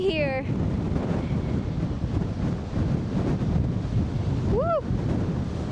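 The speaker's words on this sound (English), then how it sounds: "It's so windy here." Strong wind roars across a microphone on the exposed westernmost coast of Ireland, a steady broadband rush with a possible surf undertone, while a person's voice rises briefly at the start and again near the end.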